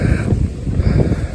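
Steady wind rushing and buffeting across the microphone, a continuous low roar with gusty swells and no voices.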